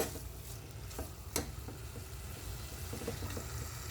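Pongal being stirred in ghee in a pan, a soft continuous sizzle with faint scraping strokes and one brief clink, quiet and close with no talking.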